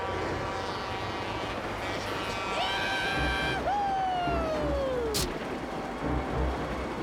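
A cartoon train approaches, its horn-like whistle sliding downward in pitch over a steady rumbling background, with a brief sharp burst near the end.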